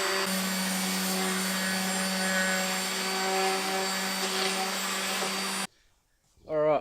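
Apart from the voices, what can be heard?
sanding a custom front bumper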